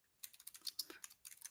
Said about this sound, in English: I'm sorry, I'm typing something.